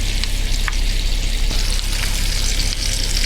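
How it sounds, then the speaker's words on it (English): Steak searing in a frying pan inside a converted Chevrolet Camaro camper, giving a loud, steady hissing sizzle with small crackling pops throughout, close up and alone. "I can already hear the sizzling"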